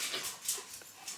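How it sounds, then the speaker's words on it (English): Dogs on an equestrian yard whine and whimper in a few thin, high, short cries, faint and somewhat distant over a soft background hiss. "the dogs is complaining right now"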